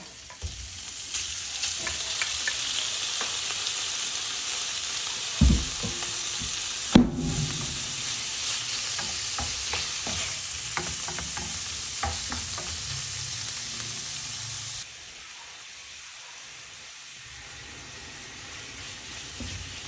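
Meat sautéing with wilted onions and garlic in a pan for chopsuey, a steady close sizzle with stirring scrapes and a couple of sharp utensil knocks, the frying quieter near the end.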